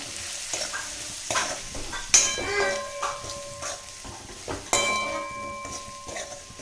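Cabbage bhaji with turmeric, masala and coriander powder is stirred in a pan, giving repeated scraping strokes over a light sizzle. A few sharp clinks of a spoon against the pan stand out, and no one speaks.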